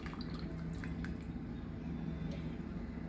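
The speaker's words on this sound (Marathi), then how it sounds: "आता आपण हे पाणी चाळणीने ह्याच्यात टाकू," Kokum water poured through a sieve into a vessel for solkadhi, giving a soft, steady trickle and drip of liquid, faint and close, with no talk.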